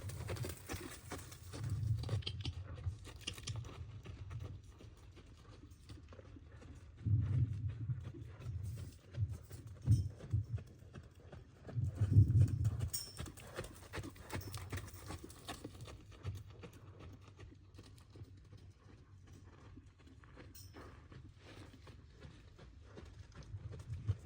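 A horse walks on soft ground during groundwork training, hooves clip-clopping in a quiet, irregular rhythm, louder in a few bursts midway, with no talk.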